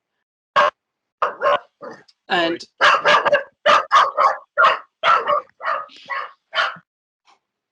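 A pet dog barks repeatedly in short, loud bursts close to a computer microphone during an online work meeting, the yaps coming in a steady uneven series with little else around them.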